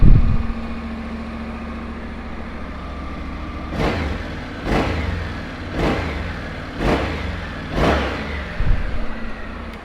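A 2019 Honda NC750S DCT ABS motorcycle with 250 miles idles steadily, then gets five sharp throttle blips at roughly one-second intervals, each rising and falling back to a low, even idle; loud and close, with no talk.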